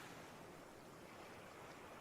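Ocean waves wash steadily onto a beach in a continuous broadband roar, with no distinct breaks between swells and some wind mixed in, close and fairly loud throughout.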